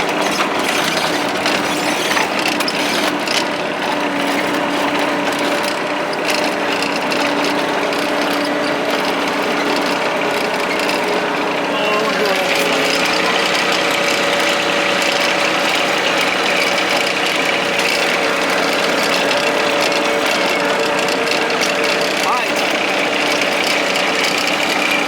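A tractor engine idles at a steady, loud rumble close by outdoors beside a pond, its tone holding constant with a faint mechanical rattle and a slight shift partway through, no voices.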